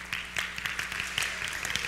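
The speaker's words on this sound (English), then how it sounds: "So that is news worth of clapping." Congregation clapping in a Lutheran church during a contemporary Sunday service, a moderate spread of hands with distinct individual claps, a steady low hum running underneath.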